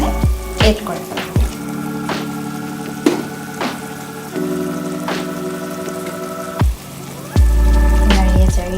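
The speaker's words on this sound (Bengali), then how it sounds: "এখন আমি এটাতে মাংসগুলো অ্যাড করে ফেলবো। সেই সাথে ভেজে রাখা আলুগুলো আমি এখানে অ্যাড করে ফেলবো।" Chicken pieces and fried potatoes go into hot oil for a chicken curry, producing loud bursts of frying with hissing and bubbling, broken by knocks and scrapes of a utensil, close up.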